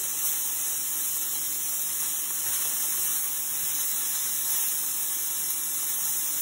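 Chicken fries in hot oil in a home kitchen, giving a steady, loud hiss of sizzling that holds unbroken from start to finish with no speech.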